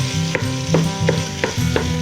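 Ground turkey browning in a pot with a little olive oil, spoon strokes scraping through the meat at a quick, regular pace over a constant close sizzle, with no voices.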